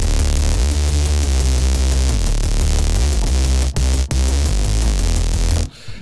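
A buzzy, harmonically rich synthesizer patch built in Vital to imitate a Serum sound with tube distortion plays as a dense sustained tone with shifting partials, cutting out abruptly near the end.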